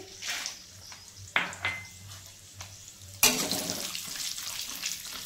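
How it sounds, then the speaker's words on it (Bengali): Cashews dropped into hot oil with cinnamon, cardamom and cloves for Basanti pulao, quiet sizzling broken by a few sharp stirring scrapes, then a louder burst of frying crackle that continues to the end. "তেলের মধ্যে ছেড়ে দেব। কাজু দিয়ে দিচ্ছি"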